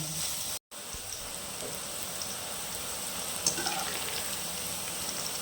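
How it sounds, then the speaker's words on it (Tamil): Bitter gourd fries frying in oil over a medium flame, a steady close sizzle and crackle that runs on evenly without a break except one brief dropout. "இப்போ இதை நம்ம நல்லா மொறுமொறுன்னு வர வரைக்கும் நல்லாவே கொஞ்சம் ஹையிலும் இல்லாமல் மீடியம் ஃப்ளேமில் வச்சு இதை நல்லா வறுத்து எடுக்கலாம்"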